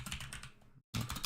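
Fast, close keystrokes on a computer keyboard come as a dense clattering run, broken by one brief silent gap before the typing picks up again.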